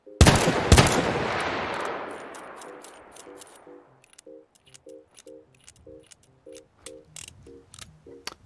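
Colt Single Action Army revolver in a video game fires two sharp, loud shots with a long fading ring, followed by a rhythmic series of small metallic clicks as the cylinder is reloaded round by round.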